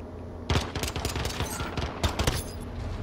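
Pistol fire in a video game: a rapid string of sharp shots in bursts, loud and close, with a brief pause between volleys and no voices.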